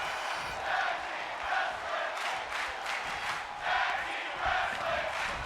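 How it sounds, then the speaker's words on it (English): A wrestling crowd at a tag team match cheers and roars in swelling waves, a broad steady wash of many voices rising and falling throughout. "the crowd is really relishing in this match"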